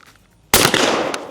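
A single loud shotgun blast at a clay pigeon during trap shooting practice, sharp and close, with the report ringing on briefly before it fades.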